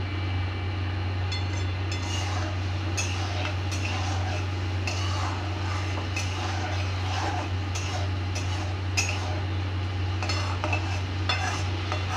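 Softened masala with a bowl of water added, stirred and cooked down in a pan: repeated scraping strokes over a steady low stove hum, with no talking.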